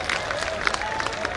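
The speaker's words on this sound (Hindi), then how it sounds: "एक बार जोरदार तालियों के साथ में उनका स्वागत और अभिनंदन करेंगे" Crowd applause and cheering at an outdoor public rally of the Sanatan Dharma Mahasabha in Sanganer, Jaipur, welcoming a Rajya Sabha MP, dense clapping mixed with crowd noise and music.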